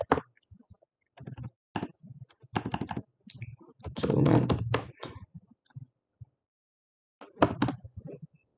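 Computer keyboard keys tapped in short bursts while a command is entered in a Debian 11 terminal, clicking runs separated by pauses, close and fairly clear with no talk.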